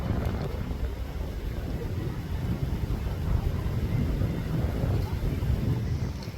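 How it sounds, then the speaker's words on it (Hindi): Wind blowing steadily across a river pool in a forested tiger reserve on the way to Girjiya Temple, a broad continuous rumble with microphone buffeting, fairly loud and unbroken, with no talk. "ये अभी हवा चल रही है तो ये पानी हिल रहा है"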